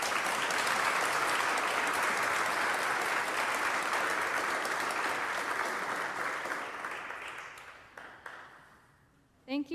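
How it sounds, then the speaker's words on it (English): A large audience gives a final round of applause at the close of a talk on exorcism by Fr. Vince Lampert, dense clapping that holds steady and then thins and fades out over the last seconds. "Let's give one last final round of applause."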